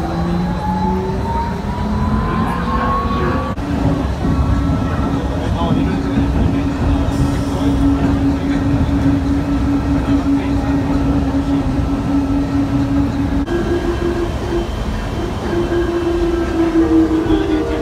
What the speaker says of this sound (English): train is departing.